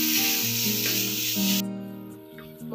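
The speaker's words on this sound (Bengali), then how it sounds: "দিয়ে ভালো করে এটাকে আমি ভেজে নেব।" Ground coriander, cumin and chilli powders sizzle hard in hot oil in a pan for an egg tadka, a loud bright hiss that cuts off abruptly partway, leaving a musical background.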